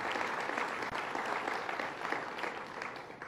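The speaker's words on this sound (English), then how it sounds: "Let's give him a round of applause, Mayor Byron Brown." Steady audience applause at a public event in Buffalo with the governor and mayor, a continuous dense clatter of many hands that holds evenly and eases off slightly at the end.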